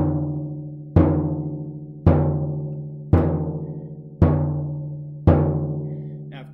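A surdo drum struck in the middle of the top head, six deep booming hits spaced about a second apart, each ringing out and decaying before the next.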